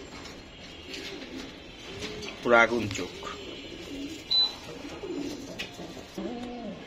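Jabra blue-eye pigeons coo in soft, repeated low rolling calls close by, interspersed with a few sharper chirps, while someone talks over them.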